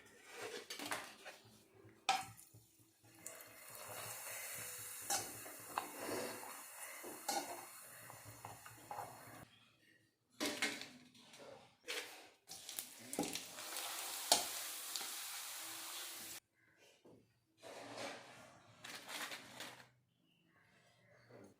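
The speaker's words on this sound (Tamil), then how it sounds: "இப்போ வந்து பப்படை வந்து பொரிச்சு எடுத்துக்கலாம்" Papad fries in hot oil in a pan, a hissing sizzle that comes in bursts between pauses, with occasional utensil clinks close by.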